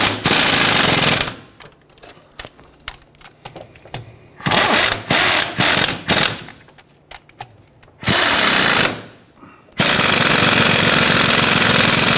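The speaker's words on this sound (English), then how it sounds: "Once we get these started, we're going to go ahead and tighten those down." Bolts on the rear upper ball joint of a 1999-2004 Jeep Grand Cherokee are run down with a power tool, loud close bursts of rapid buzzing separated by quieter pauses with small clicks and rattles.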